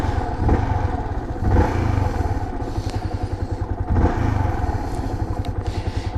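Yamaha TFX 150 motorcycle engine running close by after an electric-button start, a steady low idling chug with a few louder surges and light mechanical clatter.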